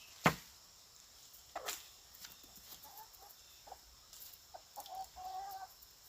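Backyard chickens give a few scattered, faint clucks over quiet outdoor ambience in a home garden during a beet harvest, with one sharper call near the start.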